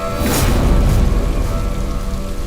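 Steady, dense rain falls near a cave at night in a loud, continuous wash with a low rumble underneath and no voices.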